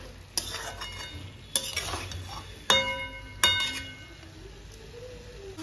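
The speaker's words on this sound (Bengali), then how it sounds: "তো এবার আমি সোয়াবিনটা দিয়ে দিলাম। ভালো করে এটাকেও কষিয়ে নিব, কিছুক্ষণ এরকমভাবে কষাবো।" Soybean chunks being stir-fried in a pan for a soybean curry, with four sharp utensil scrapes against the pan over a steady low sizzle, fairly close and with no talking.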